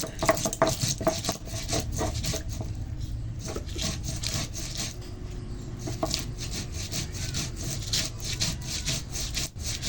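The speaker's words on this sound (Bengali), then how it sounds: "এখন সর্ষে কাঁচা লঙ্কা বেটে নেবো" Mustard seeds and green chillies being ground by hand on a grinding stone, with a steady, close rasping scrape in a quick back-and-forth rhythm that carries on almost without a break.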